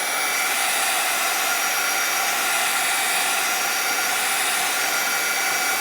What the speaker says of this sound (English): This is a heat gun, by the way.